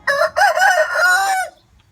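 A rooster, a white fighting cock, crows once nearby, loud and clear, with a drawn-out, wavering final note that fades into quiet.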